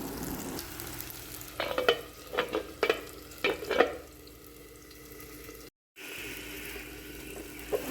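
Onions and tomatoes fry in a pan for a crab roast, with several short scraping stirs over a soft sizzle, then a brief dropout and a quieter steady frying hiss.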